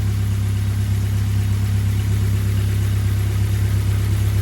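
A Ford Escort Cosworth idles with a loud, steady low rumble that holds evenly throughout, close up and alone with no voices.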